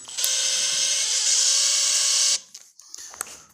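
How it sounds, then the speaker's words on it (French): Power drill driving screws into solid parquet flooring: a steady, high-pitched whine running for about two seconds, then cutting off, close by. "quand je vais visser que ça va forcer, tu vois que ça tourne plus"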